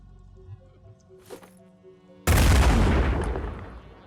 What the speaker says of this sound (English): Drop a grenade.